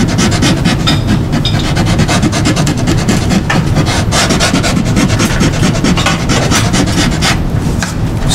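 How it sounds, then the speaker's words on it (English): Loud, continuous rough scraping of a sanding block rubbed back and forth over the wooden bridge area of a vintage Martin acoustic guitar, close up and steady with no voices. "I'm gonna go back to my little sanding block here"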